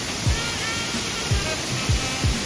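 A free waterfall in the hills near Juayua, El Salvador, roaring as a loud, constant rush of falling water close by, with a few soft thumps breaking through at intervals.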